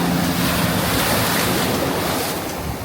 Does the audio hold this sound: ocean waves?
yes